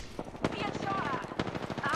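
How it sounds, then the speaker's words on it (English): Automatic weapon fire in an Apex Legends match crackles in rapid bursts with sharp impacts, loud and close, while players talk excitedly over the shooting. "Getting shot at."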